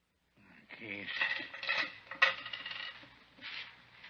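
Keys and coins are set down one after another as pockets are emptied, a close run of metallic clinks and jingles with a sharp chink near the middle, and a voice briefly heard alongside.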